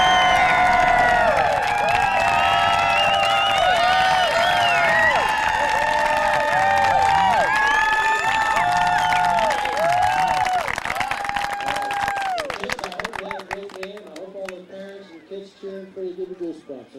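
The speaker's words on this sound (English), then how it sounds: "give the loudest applause you can, kids included, for both of these great teams" Loud crowd of spectators, children among them, applauding and cheering at a Little League baseball game, a dense continuous roar of clapping and shouts that fades and thins near the end.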